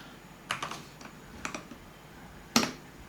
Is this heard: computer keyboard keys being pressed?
yes